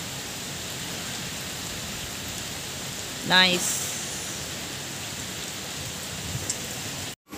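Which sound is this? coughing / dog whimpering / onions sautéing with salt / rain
rain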